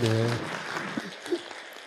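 A congregation breaks into brief, moderate applause during a Sunday morning church worship service, following a short spoken line from the leader.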